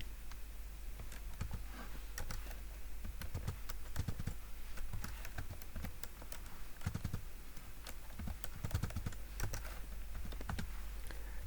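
Steady typing on a computer keyboard at close range, quick irregular key clicks running throughout with a few louder taps, over a faint low hum.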